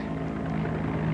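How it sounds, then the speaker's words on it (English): A steady, throbbing helicopter drone fills the moment, a continuous low mechanical rumble with no voices. "That's a helicopter."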